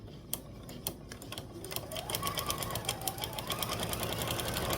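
A sewing machine stitches fabric for foundation paper piecing, its needle whirring in a fast, steady mechanical patter that picks up speed partway through, moderately quiet and close with no voices.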